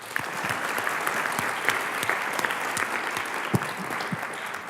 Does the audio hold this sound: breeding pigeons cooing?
no